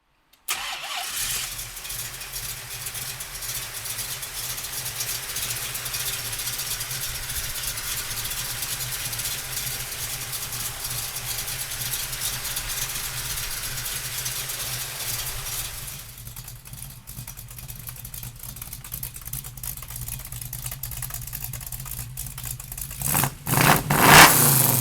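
A 1967 Ford Mustang engine fires up and runs at a steady, rumbling idle for a long stretch, dropping slightly later on before a louder rev surges near the end.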